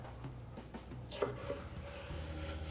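Vegetables are chopped for a minced-meat béchamel lasagna, a few quiet knife taps and scrapes on a board close by but faint, set against low background hum with no talking.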